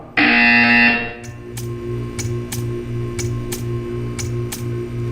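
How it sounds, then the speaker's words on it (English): Portal 2 test-chamber buzzer: one loud sustained tone lasting about a second, then a string of sharp, evenly spaced electronic ticks over a low steady hum, with no voices. "You will hear a buzzer."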